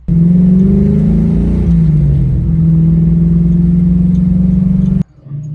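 A 1970 Ford Mustang restomod with a 351 V8 holds a loud, sustained rev close by, its pitch rising and dipping slightly before it cuts off sharply near the end, then a brief lower idle.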